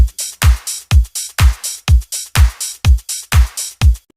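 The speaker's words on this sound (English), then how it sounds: "Then we have the drums" Punchy electronic drums from a piano house track built in FL Studio, a steady four-on-the-floor kick with bright hi-hat and clap layers hitting about twice per second, loud and alone.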